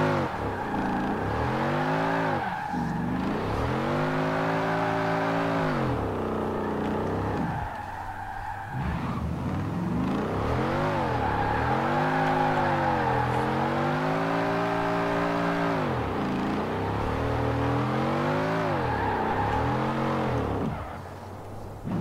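Engine of a 1968 Mustang GT 'Eleanor' drifting in Forza Horizon 4, repeatedly rising and holding high revs in long sweeping waves with brief lifts between, tires squealing loudly throughout.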